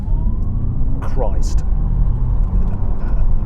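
Audi RS e-tron GT electric sports car accelerating hard from about 30 mph, a steady low road rumble and rising whine inside the cabin, with a brief voice exclamation partway through.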